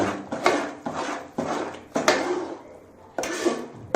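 Kesari being stirred with cardamom powder in a pan, a spoon scraping and knocking against metal in repeated strokes about every half second, close and clear with no talking.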